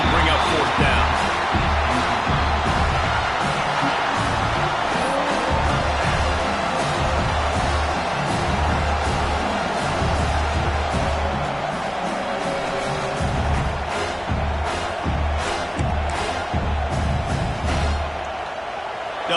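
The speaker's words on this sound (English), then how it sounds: "This crowd trying to do its part to get inside the kicker's head." Dense stadium crowd roaring steadily at a college football game in South Carolina against Florida, a constant wash of cheering and noise from the stands, with a commentator talking over it throughout.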